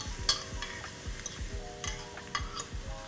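Finely chopped onion fries in melted butter with a lively crackling sizzle, while a spoon scrapes and taps against the pan in repeated strokes, close and clear, with no talking.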